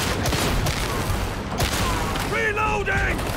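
Dense, rapid gunfire from Warhammer 40K Darktide rattles almost nonstop with overlapping bursts and heavy impacts, while a few brief electronic tones rise near the end.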